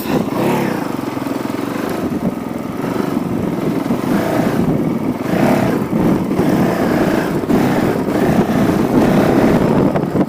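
Honda CRF450L dirt bike climbing a rough hill, the engine close and loud, surging and dropping in repeated bursts as the clutch is worked.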